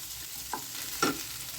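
Rice with spices is stirred and fried in a pan. A spoon gives two quick, soft scrapes against the pan over a faint sizzle. No voices are heard.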